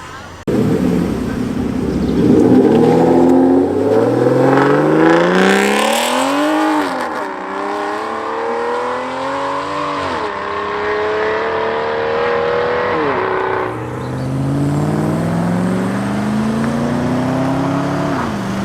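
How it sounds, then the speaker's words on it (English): Several classic cars leaving a cars-and-coffee meet accelerate and pull away nearby, engines revving up through gears and fading, with a loud steady rumble throughout. "Many of the classic cars are leaving now."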